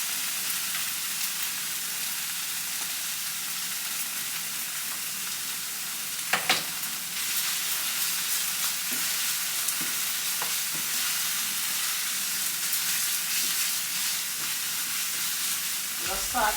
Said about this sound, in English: Saute this down